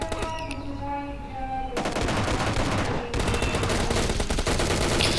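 Sustained automatic gunfire in PUBG Lite, loud rapid bursts with a brief pause, dense and continuous over game music and effects.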